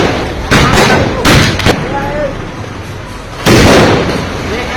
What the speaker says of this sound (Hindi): सड़क के बीचों बीच केक काटा और क्रेन से आतिशबाजी करवाई